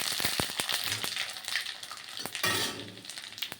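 Bay leaf, dried chilli and five-spice hit hot oil as a tempering for chana dal, crackling and sizzling close up, with sharp pops and stirring scrapes over a steady frying hiss.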